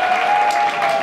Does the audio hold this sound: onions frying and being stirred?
no